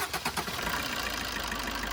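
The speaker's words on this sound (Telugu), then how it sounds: "ఇప్పుడైతే మీకు ఒకసారి ఇంజన్ స్టార్ట్ చేసి చూపిస్తున్నాను" A 2018 Maruti Swift Dzire diesel car engine cranks and catches, settling into a steady, clattering diesel idle, close and continuous with no talk over it.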